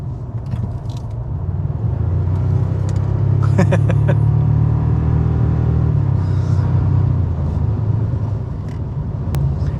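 A 2024 Toyota Tacoma TRD Off-Road rumbles steadily through a turn, with a low engine drone heard from inside the cabin and a brief squeaky tonal sound midway, as if tires or brakes were engaged.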